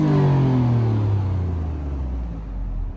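A 2022 Alfa Romeo Stelvio Quadrifoglio in race mode revs hard, then the loud close engine note sweeps down as it falls off, leaving a deep rumbling idle, with no voices.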